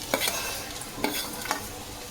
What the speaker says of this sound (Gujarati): આને મિક્સ કરી દેવાનું છે